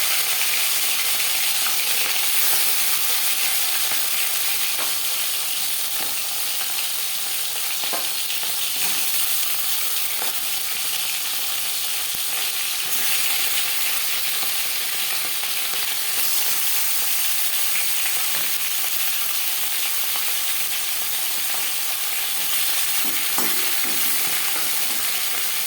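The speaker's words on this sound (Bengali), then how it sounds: "মাছের মাথা ভেজে নেব" A boal fish head fries in three spoons of refined oil, giving a loud, dense, unbroken sizzle that stays close and constant with only faint crackles throughout.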